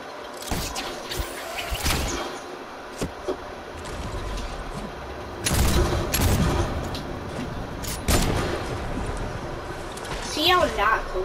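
Hunting rifle shots in a video game crack out as several loud, separate bangs at uneven intervals over a constant background.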